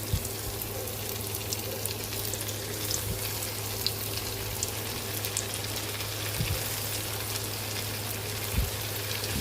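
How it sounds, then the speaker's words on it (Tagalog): Tofu fries in a pan with a steady, even sizzle and crackle that holds throughout, fairly close and alone with no voices, plus a low constant hum beneath. "Lagay na natin yung ating pritong tokwa"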